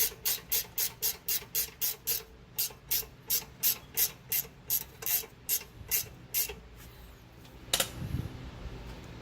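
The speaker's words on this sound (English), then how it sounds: "we're going to grab the wrench for the bottom here" A wrench ratchets while tightening the rear brake caliper bolts on an Infiniti JX35, a rapid run of crisp, evenly spaced clicks close up, pausing briefly before a final heavier clunk.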